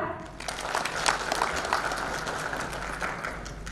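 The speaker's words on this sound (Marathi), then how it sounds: "जोरात टाळ्या होऊन जाऊ दे" An audience at an environment conference felicitation applauds, a dense, even wash of clapping that holds steady throughout.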